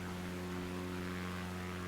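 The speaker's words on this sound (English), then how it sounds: "Let the plane fly itself for a bit." A light propeller plane drones steadily in flight over Townsville, heard from inside as a continuous loud engine hum with strong, even tonal bands and a constant airy wash.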